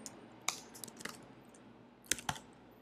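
Quiet typing on a computer keyboard while code is written into a CSS file in the Vim editor: scattered clicks and short bursts of keystrokes, close up, with no talking.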